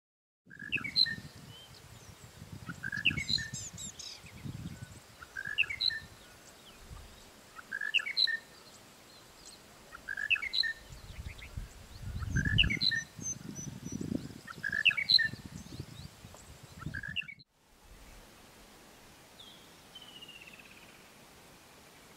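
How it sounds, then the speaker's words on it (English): White-throated bee-eaters in Kruger National Park, giving short, high chirping calls repeated at a steady rhythm of about one every two seconds, fairly distant over insect hum and low rumbling background. "We were extremely lucky to find these white-throated bee-eaters near Sinwetsi."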